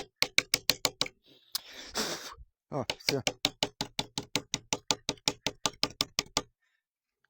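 Repeated sharp knocks as a German chainsaw part is tapped to shake sawdust loose, about twenty-five close, evenly spaced raps in two bursts, with a brief rustle and short spoken words between them.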